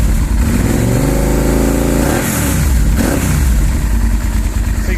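A 1998 Honda VTR1000 Firestorm V-twin motorcycle engine with baffles still in the exhaust, loud and close, idles and then revs up sharply once and falls back to a rumbling idle.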